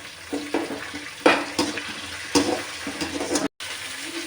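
Curry leaves and tomatoes hit a hot pan after browned onions, bursting into sizzling crackle with sharp spatula scrapes and clatter, close and fairly loud, with a brief dropout near the end.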